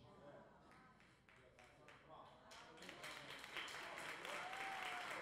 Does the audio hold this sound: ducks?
no